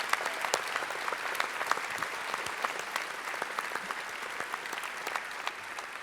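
A large crowd applauds at a political investiture convention in Lille, dense sustained clapping with sharp individual claps poking through, full and continuous throughout.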